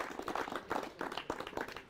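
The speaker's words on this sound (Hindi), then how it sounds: "अपने लिए भी जोरदार तालियां बजाइए।" A small audience at a farmers' forum stage event claps, faint scattered hand claps over a short stretch.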